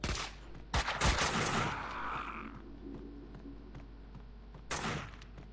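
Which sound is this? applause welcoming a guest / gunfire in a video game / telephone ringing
gunfire in a video game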